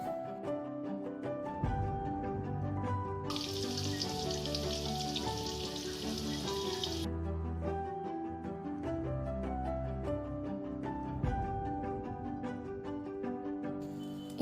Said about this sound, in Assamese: মই আলুখিনি ভাজি ল'ম